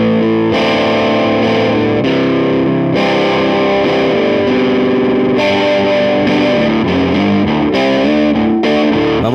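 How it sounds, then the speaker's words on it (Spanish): Fulltone OCD overdrive pedal driven by an electric guitar, likely a 1962 Fender American Vintage Jaguar, producing loud, dense and creamy distorted chords and riffs that ring continuously with short pauses between phrases. "El OCD es especial para conseguir un overdrive denso y cremoso"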